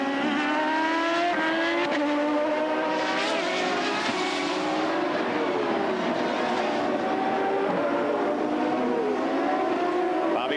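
A CART race car from 1996 qualifying at the Mid-Ohio circuit roars down the pit straight, engine pitch rising steadily and loud throughout, with further cars layered in the background.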